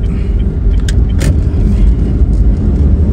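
A car driving along a road in Makassar past a festive gathering, steady close engine and tire rumble with a couple of faint brief clicks.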